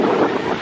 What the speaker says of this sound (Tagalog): Kasi mahangin dito ngayon eh.